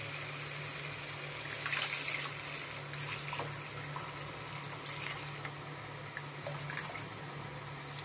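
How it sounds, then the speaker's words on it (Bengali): Hot water pours into fried spice masala in a pan while cooking a snakehead fish curry, a steady close liquid hiss and trickle running unbroken throughout. "এবার আমি এতে গরম জল দিয়ে দেব"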